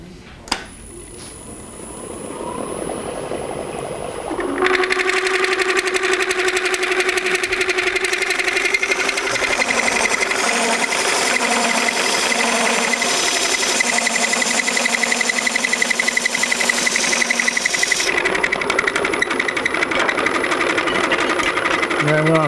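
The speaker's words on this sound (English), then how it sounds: "cut a recess in there, and I'm going to start out with the parting tool." A wood lathe turns a crematory urn while a parting tool cuts a recess, giving a steady loud whirring drone with sustained tonal cutting whine throughout, after a quieter start.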